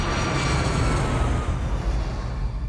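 Roaring jet engines of an airliner, Cactus 1549, during its takeoff roll in a film scene, a dense, steady, loud rumble with no voices over it.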